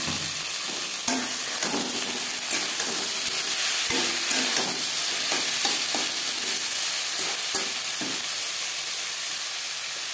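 Cauliflower stirred into pressure-cooked rice and mung dal khichuri, a continuous low sizzle broken by repeated scraping and clacking strokes of a spoon against the pot, close and steady throughout, no voices.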